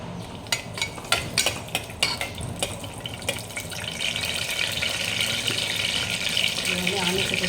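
Onions tossed into hot oil with curry leaves for prawn curry, starting with a run of clattering stirs and scrapes, then settling into a steady, close sizzle.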